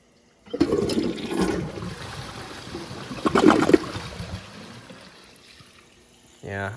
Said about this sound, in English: I flushed it at about a quarter inch, and it really lets out as little water as it possibly can there